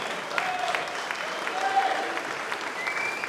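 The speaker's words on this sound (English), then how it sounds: "big round of applause for those who have travelled today" Applause from a live podcast audience of Aston Villa fans, a steady patter of clapping at moderate volume running throughout, with some speech mixed in.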